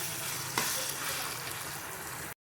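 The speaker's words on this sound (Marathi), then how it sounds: "हळद घालून चांगलं त्याला परतून घेऊया।" Onion and tomato with turmeric sauté in hot oil over a medium flame, a steady close sizzle and crackle with a brief stirring scrape near the start.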